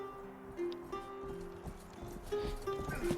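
Horse hooves clip-clop in the video game Rustler, a light, steady patter of hoofbeats over a low game backdrop, fairly close and continuous.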